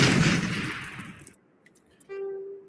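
A grenade blast in the sci-fi shooter Mass Effect: one loud, broad burst that rumbles and fades over about a second, then near-silence, followed by a faint steady electronic tone.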